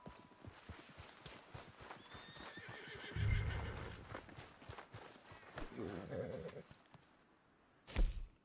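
A horse in a PS4 video game neighs and whinnies loudly at close range, with steady clip-clopping hooves and a final sharp whinny near the end, mixed with faint game ambience.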